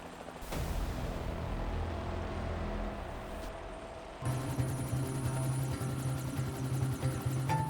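A continuous mechanical engine drone with a rhythmic whir, like a helicopter in flight heard from inside the cabin, steady and loud throughout.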